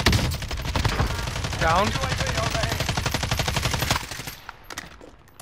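Gunfire in the Call of Duty Modern Warfare video game, a sniper engagement heard as a long, steady run of sharp, loud shots that stop abruptly, with players talking over the firing.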